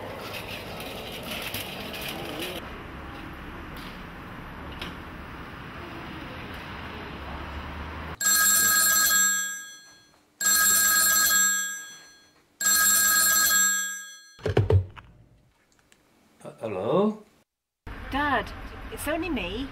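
A telephone rings in three long electronic bursts with short gaps, loud and close, after a stretch of background noise, then a handset is picked up with clunks and handling sounds.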